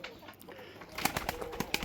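Soft pigeon coos sound up close, repeating in short throaty bursts against faint background noise.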